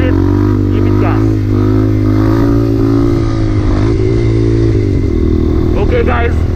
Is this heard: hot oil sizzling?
no